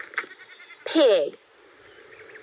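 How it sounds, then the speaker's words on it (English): A sheep bleats once, a loud wavering cry from a children's animal-sounds lesson, standing out clearly over a faint background. "Sheep."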